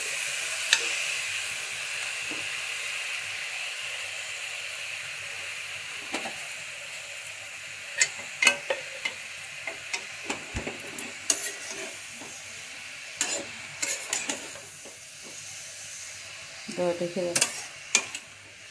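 Prawns and spinach sizzle steadily in a pan while a utensil scrapes and clatters in scattered bursts, with a brief spoken word partway through.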